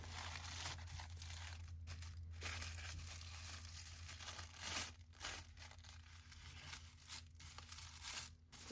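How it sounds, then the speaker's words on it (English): Paper being fan folded for a junk journal page: soft, steady crinkling and creasing rustles up close, with sharper crackles now and then over a low background hum. "let's see if I can maybe just fan fold it up a little bit."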